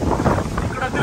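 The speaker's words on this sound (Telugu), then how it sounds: "గాలి చూడండి, అలలు చూడండి" Strong wind buffets the microphone continuously on a Goa beach in July, with rough waves nearby, a loud rushing roar throughout the short moment.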